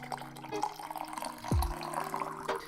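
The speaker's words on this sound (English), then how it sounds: "That's what happens when you drink so much coffee. And if you listen closely, you might hear me pour it." Coffee poured into a cup at a trading desk, a brief liquid splash standing out from low room hum and faint background chatter.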